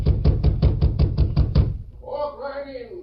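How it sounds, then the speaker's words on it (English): Nine sharp, evenly spaced knocks on a wooden door, close and loud, followed by a voice. "Me rap on door."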